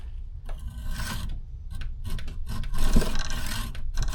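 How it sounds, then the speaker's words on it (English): An aluminum oil cooler line from a Chevy OBS Silverado, held in a vise, being cut by hand, giving repeated rasping back-and-forth strokes that grow slightly louder toward the end, close by with no talking. "it should be very easy to cut because it's aluminum"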